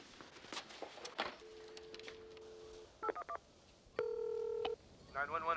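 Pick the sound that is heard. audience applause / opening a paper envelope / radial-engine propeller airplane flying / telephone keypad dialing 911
telephone keypad dialing 911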